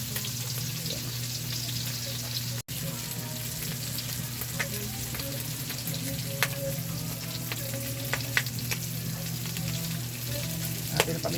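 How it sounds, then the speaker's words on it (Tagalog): Garlic and onion sizzle steadily in hot oil as the base for adobo, a dense continuous frying crackle with occasional sharper pops, close and alone with no talking. "Mga idol, lagyan na natin yung bawang at saka sibuyas."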